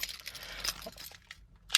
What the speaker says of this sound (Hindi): अब चलिए चाबी को करते हैं प्लग इन।